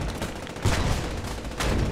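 WWII game battle gunfire crackles at a moderate distance, with a few sharp bursts over a steady background of combat noise.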